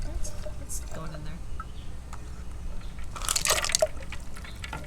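Water pours and sloshes into a container used for cutting a glass bottle, close and wet with drips, while people talk over it and a louder splash comes near the end.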